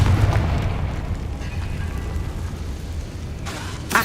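A Confringo spell goes off in Hogwarts Legacy, a loud rumbling boom with a sustained low roar that holds steady for several seconds, ending in a brief bright crackle.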